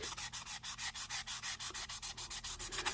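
Sandpaper rubbed by hand over the body fins of a 1969 Dodge Charger R/T during prep for paint, a steady close back-and-forth rasp of about twenty even strokes with no talking.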